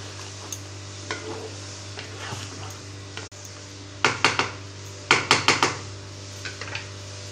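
Egg yolks being stirred into frying green masala in a pot for kofta, with a steady low hum and soft sizzle under sharp spoon clanks that come in quick bursts of four or five strikes, close and fairly loud, with no talking.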